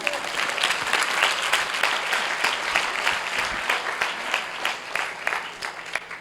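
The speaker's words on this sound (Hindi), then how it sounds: "जरा जोर से ताली बजा के प्रभु को धन्यवाद दें।" A congregation at a youth camp sermon claps loudly and steadily, a dense, sustained round of applause that fills the room for the whole stretch.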